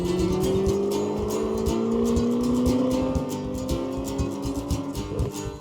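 A Chevrolet Corvette ZR1 engine pulls hard under acceleration, a loud rising tone climbing steadily over several seconds with a rough, gritty edge.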